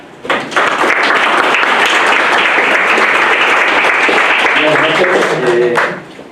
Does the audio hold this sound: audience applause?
yes